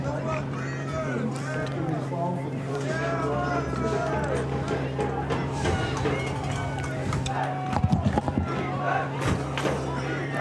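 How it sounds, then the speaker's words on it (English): Football crowd at the 99th Turkey Bowl chanting "defense" in a steady, loud roar, with an announcer's voice running over it and a brief surge of noise near the end. "Crowd chanting defense."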